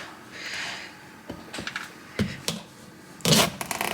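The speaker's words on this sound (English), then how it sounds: "So I'm going to cut off the edge here." Knife cutting through the edge of a vegetable during meal prep: a few sharp, brief cutting clicks and a louder chop near the end, fairly close over a soft rustling background.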